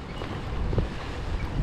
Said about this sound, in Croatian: Da, je dosta vjetrovito danas.